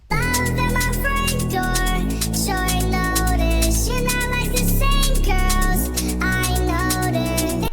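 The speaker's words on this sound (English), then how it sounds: "Then I added a slap house hi-hat loop" A slap house loop with hi-hats and shakers, a vocal acapella and a sub bass plays together continuously. Ticking hats run above a steady low end, with shifts in the pattern every couple of seconds.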